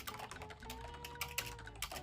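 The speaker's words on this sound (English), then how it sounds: "Every key press feels like squishing a bubble." Quiet, quick key presses on a computer keyboard with soft, squishy membrane keys, a rapid irregular patter of clicks with no voices.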